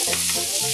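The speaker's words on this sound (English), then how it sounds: "I'm going to add the salmon in now because I don't want the salmon to overcook" Small broken pieces of salmon sizzling in a hot frying pan while being stirred, a loud, dense crackle that runs without a break through the short moment.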